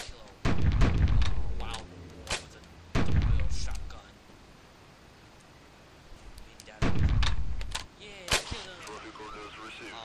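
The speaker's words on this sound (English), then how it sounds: "I'm gonna kill a wild boar with a double-barrel shotgun." A double-barrel shotgun fires at a wild boar in the video game Carnivores: Ice Age, with three loud, booming shots spaced a few seconds apart, each decaying quickly, and quieter clicks and thumps in between.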